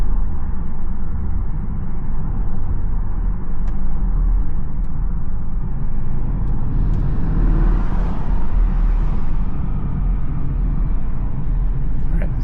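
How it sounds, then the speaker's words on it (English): A Porsche Cayenne Turbo fitted with a secondary cat bypass exhaust gives a steady, loud, deep rumble while driving, holding a constant drone with a slight swell partway through. "when you step it, you really can hear an exhaust tone coming from the car now."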